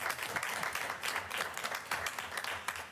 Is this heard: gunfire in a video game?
no